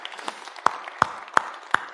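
A church congregation claps together in praise: four sharp, evenly spaced handclaps in a steady rhythm over a soft background murmur.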